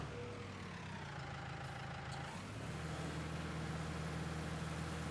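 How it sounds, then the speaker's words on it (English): A tractor in Farming Simulator 19 labors under load with its PTO engaged, a low steady diesel drone that dips and then settles at a heavier pitch, heard alone without talk. "The PTO was really dragging down the power on the tractor."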